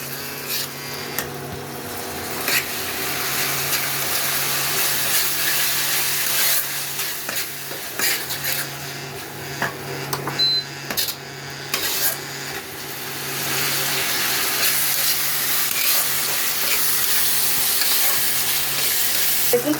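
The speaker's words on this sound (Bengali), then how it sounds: "মশলাটা ভালো করে আমি কষিয়ে নেব।" Chilli powder and ground cumin stir-fried in oil in a pan, a continuous sizzle with repeated scraping strokes of a spatula throughout, close and fairly loud, no voices.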